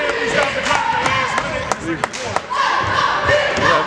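Basketball crowd chants "Let's Go Griffins" in a loud, echoing gym, with rhythmic group shouts mixed with thuds and scattered claps, while a commentator talks over it.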